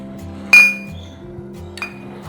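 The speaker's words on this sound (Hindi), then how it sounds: "तो हम इसको अच्छे तरीके से मिक्स कर लेंगे।" Metal spoon clinks sharply twice against a pan while bread is stirred in ghee for bread halwa, each strike ringing briefly, close and clear over a quiet background.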